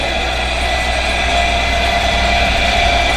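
A three-phase induction motor running under a load test hums loudly and continuously, a steady electrical whine with dense tonal layers and no pauses.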